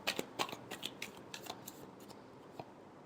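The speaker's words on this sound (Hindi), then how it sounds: "Last shuffle." Tarot cards shuffled by hand, quiet irregular riffles, snaps and taps in short clusters that thin out toward the end, with no talking.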